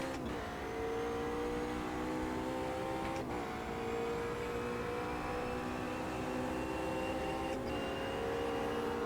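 Several GT3 Porsche race car engines in the Automobilista 2 racing game at Imola, a steady loud harmonic drone with rising pitch sweeps as revs climb, with two brief gearshift breaks and no talk.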